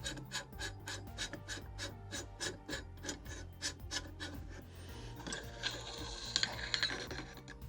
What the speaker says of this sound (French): Bon là, il se dévisse bien.